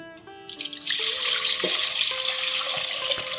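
Water strained off soaked sorghum flour runs steadily with a hissing, splashing pour that starts after a brief moment and continues throughout, fairly close and loud.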